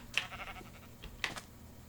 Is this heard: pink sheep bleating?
yes